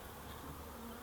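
Honeybees buzz in a dense, steady drone around their hives, a continuous hum at moderate level with no voices over it.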